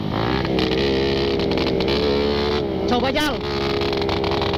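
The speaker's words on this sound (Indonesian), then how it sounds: "Pas waktu ini gua ganti knalpot ini yang agak sedikit keluar suaranya" Suzuki Satria FU motorcycle with a bobok aftermarket exhaust, engine running with a steady, loud drone and a brief rev partway through, under someone talking.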